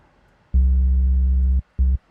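A low, buzzy synthesized tone with rich harmonics sounds steadily for about a second, stops, then returns briefly; clean electronic timbre, nothing else present.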